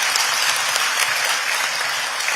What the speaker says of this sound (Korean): 이재명 대통령님께 감사의 박수 한 번 더 주십시오